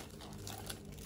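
A plastic shopping bag is handled close by, giving faint, continuous crinkling and rustling with no voices.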